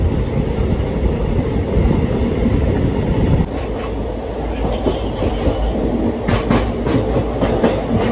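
A train running through Masagram railway station, a loud steady rumble of wheels and carriages with rhythmic clickety-clack beats, the roar easing slightly partway through as the sound shifts.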